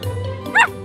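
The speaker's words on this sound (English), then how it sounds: "Puppy." A cartoon puppy gives a single short high-pitched yelp, heard close and clear for a brief moment against a quiet background.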